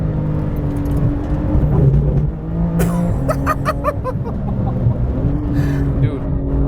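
A 700 HP Porsche 911 GT2 RS MR cruising on the Nordschleife, heard from inside the cabin: a loud, steady engine drone with a brief dip and rise in revs, plus some rattling clicks, no talk.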